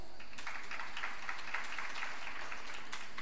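Quiet, distant audience clapping at the FIGO 2018 gynecology and obstetrics congress, brief scattered applause from a hall crowd voting on a quiz answer, lasting a few seconds.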